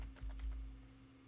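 Several quick keystrokes tapped on a computer keyboard in a short burst, close and fairly faint over a steady low hum.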